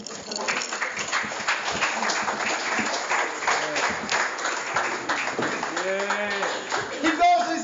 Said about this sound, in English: Guys, put your hands together for the fully able Dave Squeaky Wheelz Robin